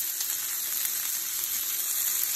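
Skillet potatoes with red and green peppers and white onions fry in a single pan, giving a steady, even sizzle at moderate loudness with no talk over it.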